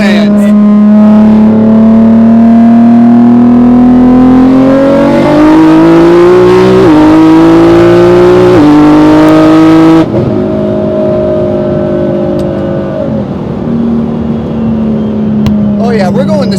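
A 1350-horsepower Nissan GT-R accelerates hard through a full pull, with the engine note climbing through several gear changes. It is loud and close from inside the car, with talking mixed in with the roaring, rising engine.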